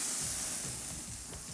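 Steak searing on a BBQ grill, a steady airy hiss and sizzle that fades slightly toward the end, with no talking.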